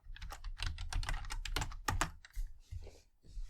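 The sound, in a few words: computer keyboard typing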